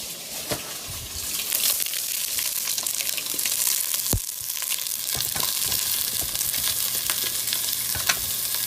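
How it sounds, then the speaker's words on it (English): Crumbled Italian sausage sizzling and frying in a pan over medium-high heat, a steady loud crackle with occasional scrapes and clicks as the meat is stirred and broken up. "We're not trying to like blacken this sausage at all."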